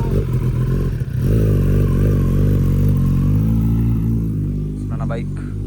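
A motorcycle engine drones loudly up close, its pitch climbing and settling as the throttle is worked, with a brief clatter early on and a voice briefly audible near the end.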